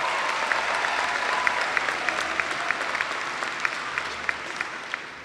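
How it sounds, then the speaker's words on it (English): At a Savannah Technical College commencement ceremony, the crowd applauds the instructors with a steady wash of clapping and a few distinct, sharp claps punctuating it. "let's give our instructors a round of applause as well"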